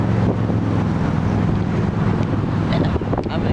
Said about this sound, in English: Hopefully you can hear me, it's really windy.